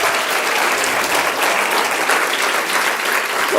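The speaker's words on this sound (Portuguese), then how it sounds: "Dá um aplauso para eles." A church congregation bursts into steady, dense applause that stays loud and even throughout, with no voices standing out above the clapping.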